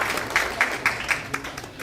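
Attendees at a political party's policy advisory appointment ceremony applaud: a modest group clapping in a fairly regular rhythm, with a few sharp claps standing out close by, fading slightly toward the end.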